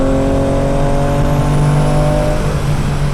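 A sports car drives over bumpy tarmac with its engine droning loud and close in a steady, continuous roar, with no voices.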